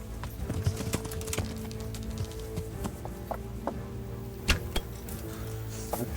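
Horse hooves clip-clop in Kingdom Come: Deliverance, a steady run of soft hoofbeats under a constant game ambience, with a few sharper knocks and clatters scattered through.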